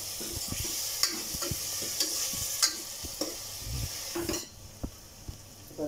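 Soaked chana dal sautéed in a pan, giving a continuous low frying hiss under repeated scraping and clinking of a spatula against the pan, close up with no voices.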